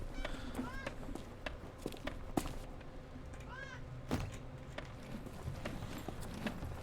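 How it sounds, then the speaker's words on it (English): Two cats meow back and forth, one real and one from a video game, with several rising meows over hoof-like clip-clop game sounds and scattered knocks; a voice talks now and then. "dueling cat sounds over here."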